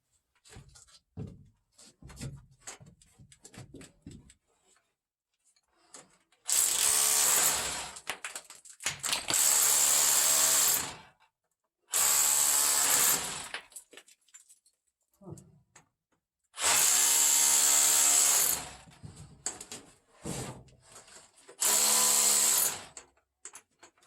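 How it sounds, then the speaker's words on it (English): A hammer drill with a chisel chipping hard gold ore inside an abandoned mine: about five loud, harsh hammering bursts of a few seconds each, separated by quieter gaps with faint handling noise and possible speech. "let me get the hammer drill out and chisel and we'll get chipping on this stuff"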